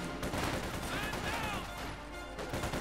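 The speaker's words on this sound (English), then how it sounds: "gunning down a few gentlemen there with the might of Sturmgewehrs" Dense, overlapping rifle fire from Sturmgewehr assault rifles in the World War II strategy game Company of Heroes 2, a continuous crackling battle din with faint commentary beneath it.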